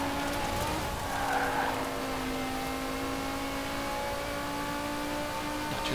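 An older naturally aspirated V10 car in Forza Horizon 4 drives under a sustained, fairly quiet engine drone with steady harmonics and a brief squeal of tires near the start.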